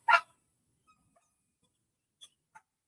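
One dog bark rings out loud and sharp at the start, then a couple of faint, tiny yips follow after a long quiet gap.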